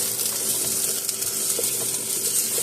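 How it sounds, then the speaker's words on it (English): A kitchen tap runs steadily into a sink beside a stove where pasta and onions are cooking, a soft continuous splashing flow with faint clinks mixed in. "I'm going to turn down the water a little bit."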